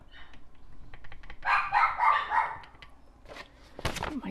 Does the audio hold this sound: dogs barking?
yes